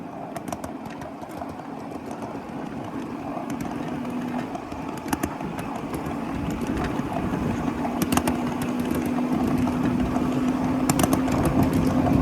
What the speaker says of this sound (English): They call that rattling the diamond because they make a rattling noise when you go over them.